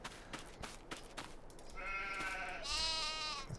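Sheep bleating in the Farming Simulator 22 video game, with a few soft clicks at first, then two drawn-out, wavering bleats that rise in pitch and carry clearly over faint background ambience.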